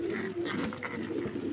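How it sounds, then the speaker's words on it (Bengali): German shield pigeons and round fancy pigeons coo softly and continuously at close range, their low, throaty calls overlapping without pause. "একজোড়া জার্মান শিল, 2 জোড়া গোল্লা। দেখেন কবুতরগুলো দেখেন"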